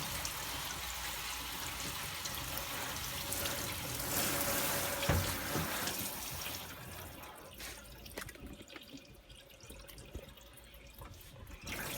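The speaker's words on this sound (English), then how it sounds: "A bit more water there, and rinse it out again." Water runs and splashes steadily over an AEG tumble dryer condenser as lint is rinsed off it, close up and continuous, with a brief louder gush in the middle and no talking.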